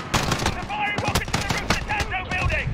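Gunfire in Call of Duty Modern Warfare on the Piccadilly map: loud, rapid automatic bursts and overlapping shots close by, with a player's voice briefly mixed in.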